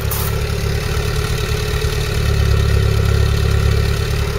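Steady, loud engine running close by on its original untouched carburettor, with points and timing recently set. The note is a continuous even drone with a slight swell midway, no voices.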